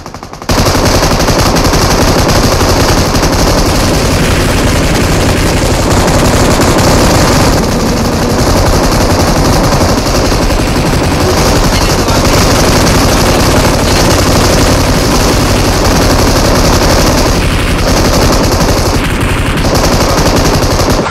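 Sustained automatic fire from an M249 machine gun in a video game, loud and nearly continuous for about twenty seconds, with only brief dips in the stream of shots.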